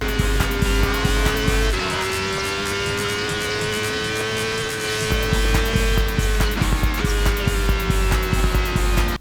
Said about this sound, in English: as you race through a tiny highway of France, dodging traffic